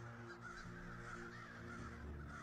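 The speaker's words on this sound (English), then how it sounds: "you hear a crow call in the distance" A crow caws repeatedly from far away, faint hoarse calls in a steady rhythm over a constant low hum of background noise.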